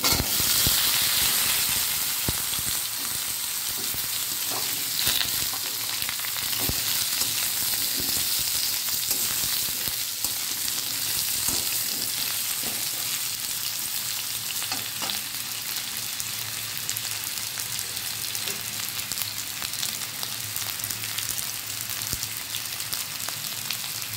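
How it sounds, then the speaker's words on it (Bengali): Potatoes and pumpkin fry in hot oil with panch phoron five-spice, a dense, steady crackling sizzle like rain on a surface, with occasional faint stirring scrapes, close and continuous throughout. "পাঁচ ফোড়নটা ভেজে গেছে, এখন আলু কুমড়োটা দিয়ে দিচ্ছি।"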